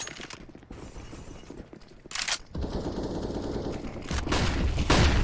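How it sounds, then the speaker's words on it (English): Rapid gunfire and bullets whizzing past in a competitive multiplayer shooter match, with dense bursts building louder toward the end and no talk. "he's not liking the flurry of bullets whizzing by his head"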